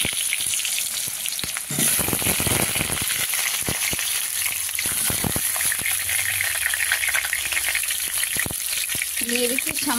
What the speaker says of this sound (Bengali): কড়াইতে তেল দিয়ে দেবো